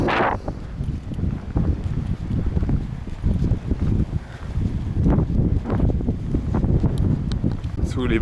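Strong gusts buffet the microphone in a seaside town, a loud, rumbling low roar that swells and dips continuously, with brief voices and street noise faintly underneath.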